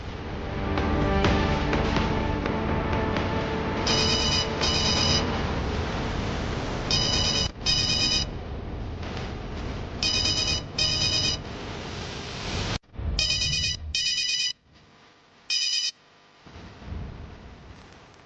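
A telephone rings in bursts of electronic trilling, often in pairs with short gaps, over background music and drama-score swells. Near the end the music drops out and the rings stand more exposed.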